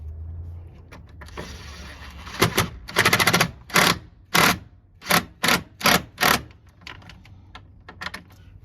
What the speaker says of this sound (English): I'm using a little bitty 12 volt impact